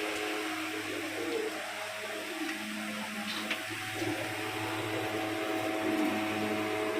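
American Saint pigeons cooing in a loft, low soft coos repeating steadily against a constant background hum, with faint fluttering and rustling throughout.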